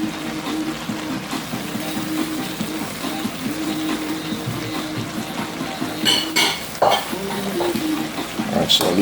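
Bok choy being stirred in a hot pan for Jamaican chicken chop suey, a constant close sizzle of frying with scraping stirs and a few sharp clinks of utensil on pan, and no voices.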